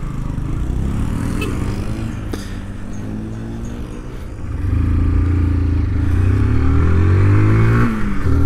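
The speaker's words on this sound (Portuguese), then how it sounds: "Colocando a motoca pra andar hoje." A motorcycle being taken out for a ride after sitting unused for a while, its engine running steadily and close, with a rise in revs and a louder, fuller tone partway through and some light clatter.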